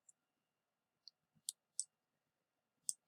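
Mouse clicks on a computer, a handful of faint, sharp isolated clicks spaced irregularly in an otherwise quiet room.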